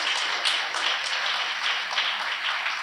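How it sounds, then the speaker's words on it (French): An audience at a Beninese youth summit breaks into sustained applause after a speech. Dense, even clapping with a few sharper accents holds at a steady moderate loudness across the whole stretch, with no voices over it. "un tonnerre d'applaudissements"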